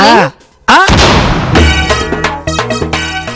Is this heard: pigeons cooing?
no